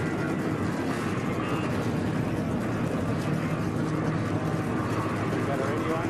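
Forty-three NASCAR race cars idle together at Iowa Speedway before the 2011 U.S. Cellular 250, a loud unbroken engine rumble that fills the scene while speech carries on beneath it.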